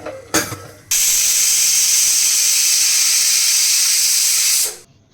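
A pressure cooker of cluster beans curry lets out a brief hiss, then a long, loud, steady steam whistle lasting nearly four seconds before it cuts off.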